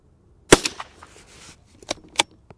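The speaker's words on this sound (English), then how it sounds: "We'll take about three shots just to group this" .22 Short rounds fired from a .22 LR rifle with a red dot sight at a target 35 yards away: three sharp, close shots, one loud crack followed by two lighter ones, spaced about a second and a half apart.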